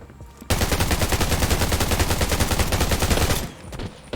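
Rapid, sustained SVD sniper rifle gunfire in the Undawn video game, a loud dense volley of shots running for about three seconds before dropping off abruptly.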